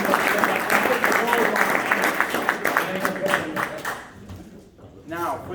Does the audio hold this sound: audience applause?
yes